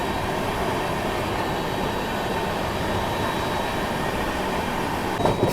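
Train running past a coal power plant on an Indian mail express route, a steady loud rumble of wheels and carriages throughout with a brief clatter near the end, no talk.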